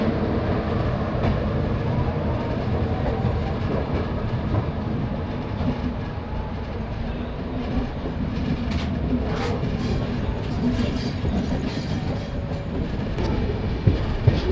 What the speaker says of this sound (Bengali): ফাইনালি ট্রেন ব্যান্ডেল স্টেশন ছেড়ে বেরিয়ে যাচ্ছে